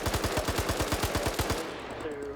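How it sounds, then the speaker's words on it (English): Rapid bursts of rockets cooking off in a military video game, a fast regular string of sharp explosive pops for about a second and a half, then a fading rumbling tail. "you can still hear those rockets cooking off"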